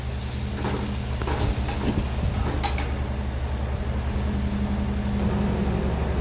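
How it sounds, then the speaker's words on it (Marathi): Onion sautéing and being stirred in a pan while making Maharashtrian mugachya dalicha daalkanda: a steady close sizzle with occasional scraping and clinks of the spoon, no talk. "आता कांदा टाकून घेते कांदाही व्यवस्थित परतून घेते"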